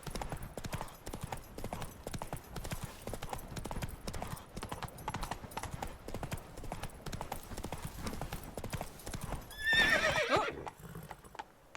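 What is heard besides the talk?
horse Roach trotting and neighing in Witcher 3 video game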